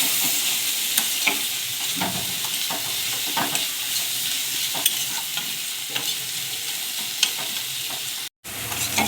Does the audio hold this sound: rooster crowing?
no